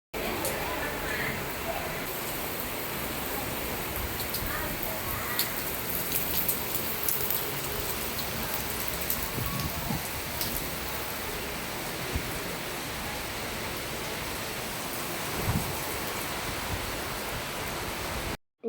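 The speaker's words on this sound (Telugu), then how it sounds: "చాలా పెద్ద వర్షం అన్నమాట." Heavy rain falls steadily outdoors near a home kitchen, a constant hissing patter of drops on surfaces heard up close throughout, with a few brief taps rising above the downpour.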